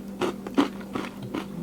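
Homemade microwave peanut brittle crunches in several sharp bites and breaks spread across a short moment, close and fairly quiet, with a steady low hum beneath and no talking.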